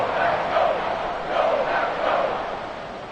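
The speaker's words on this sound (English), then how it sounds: "This crowd turning up the decibel level." Football stadium crowd at a Packers divisional playoff game roars loudly and steadily, a dense swelling wall of noise heard from within the stands.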